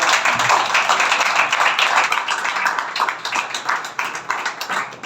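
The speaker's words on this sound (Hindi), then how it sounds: "दादी जी के लिए जोरदार ताली" An audience claps loudly for a grandmother, a dense, continuous burst of hand clapping that stays strong and close before thinning slightly toward the end.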